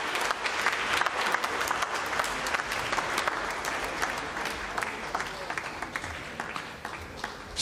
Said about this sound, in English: So you heard the applause